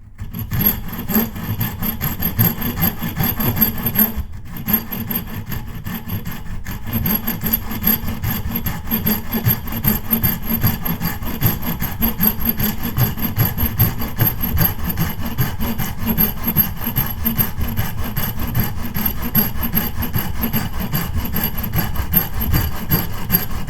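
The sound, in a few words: hand sawing wood for bench tenon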